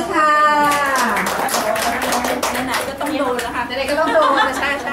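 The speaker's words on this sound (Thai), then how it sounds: "ขอเสียงปรบมือค่ะ" Applause from a participant audience at a retail sales staff training course, scattered clapping that rises briefly under a woman's amplified speech, which continues throughout.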